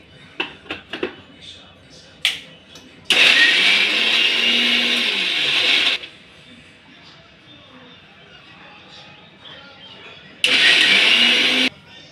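A mixer jar grinds onion, coriander, garlic, garam masala, turmeric, chilli powder and salt in two loud whirring bursts of about three seconds and one second, with a few light clicks and knocks before and between them.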